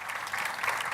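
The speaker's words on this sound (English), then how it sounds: "I would really encourage you to give him a big hand of applause" A conference audience at AngularConnect 2018 gives a brief burst of applause for a first-time speaker, dense and fairly faint clapping lasting about a second.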